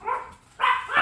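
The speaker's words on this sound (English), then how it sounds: "sorry, the dogs are going off here." Several dogs bark nearby in two loud bursts separated by a brief pause, the second burst longer and followed by another yelp, with no speech over it.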